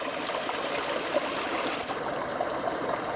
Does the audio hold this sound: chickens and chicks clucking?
no